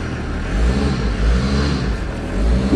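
A diesel caravan engine runs with one wheel jacked up off the ground, giving a steady low rumble and whir that swells and eases in gentle waves, fairly close and with no talking.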